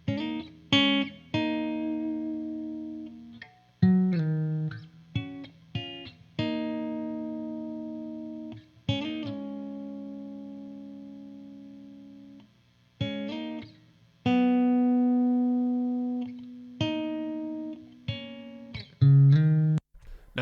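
Lead guitar line from a song, played alone as clear, sustained melodic notes with short gaps between phrases and no talking.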